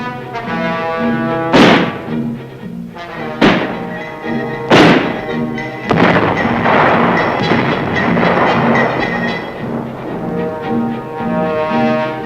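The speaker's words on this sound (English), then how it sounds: "Mortar teams are drilled in exercises to set up and to sight in, plot, and fire the big 81mm U.S." An 81mm U.S. mortar firing during a training drill, heard as four heavy, separate thumps spaced a second or two apart, set beneath a continuous loud music soundtrack.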